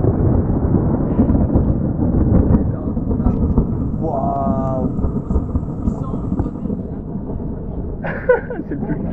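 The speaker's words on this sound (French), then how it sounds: "C'est le plus puissant tonnerre que j'ai entendu de ma vie." Thunder from a tropical storm over a jungle river in Suriname rumbles deep and continuous, heavy and close, with rain beneath it; a person briefly exclaims partway through.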